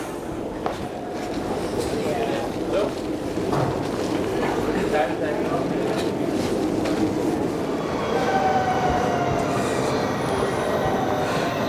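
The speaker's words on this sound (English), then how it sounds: "That's the Koploper. That is the ICNG, the intercity new generation." An ICNG intercity new generation train pulls into Hilversum station in the Netherlands with a sustained rumble of rolling wheels and faint squeals. People talk over it nearby.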